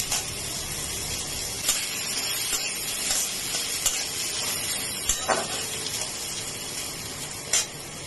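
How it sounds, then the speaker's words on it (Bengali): Steady, close sizzling of vegetables frying in a pan, with occasional stirring scrapes and spatters and no talking. "একটু ভাজা ভাজা হয়ে যাক"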